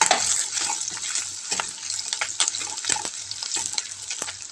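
Chopped onion frying in hot oil with mustard seeds and cumin in a wok, a continuous close sizzle broken by the regular scrape and clatter of stirring.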